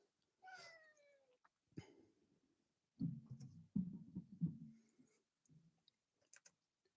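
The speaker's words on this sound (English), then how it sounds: "My cat wants back on my lap." A house cat meows a few times in short, rising and falling calls close by. The calls come between quieter rustling and soft low thumps, with no speech.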